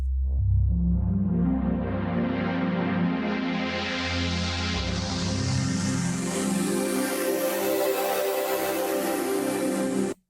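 A sustained, evolving Tone2 Nemesis 3 synthesizer texture with deep bass drones and shimmering, airy highs that swell and brighten over time, loud and continuous before cutting off.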